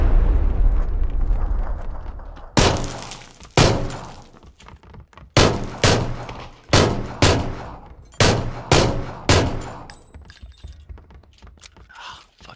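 AK rifle gunfire in a game: after a few seconds of rumbling noise, a series of sharp, loud single shots and short bursts crack out at irregular intervals, each with a decaying echo, gradually fading toward the end.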